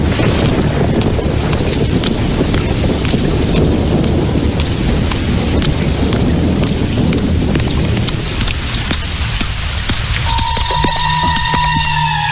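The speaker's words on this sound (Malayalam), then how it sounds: "എന്തൊരു മഴയല്ലേ" Heavy rain pours down in a dense, continuous roar with wind gusts, loud and close; a steady tonal hum appears near the end.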